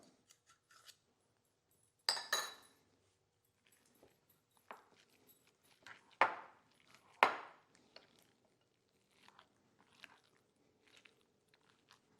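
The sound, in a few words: mixing party dip ingredients with a utensil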